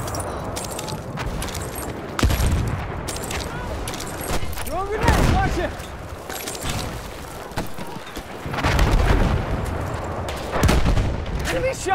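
Battlefield 1 combat in the Argonne Forest: grenade blasts and bursts of rifle and machine-gun fire crack and boom in irregular clusters, with louder explosions near the middle and end, amid shouted battle chatter.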